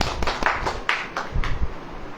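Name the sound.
audience clapping hands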